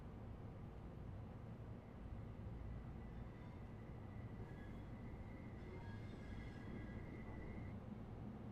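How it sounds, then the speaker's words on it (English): A train approaches in the Train Sim World 3 simulator, a steady, full rumble of wheels and engine that holds throughout, with thin high tones and a faint horn-like whine rising toward the end. "Oh, here comes a beautiful train."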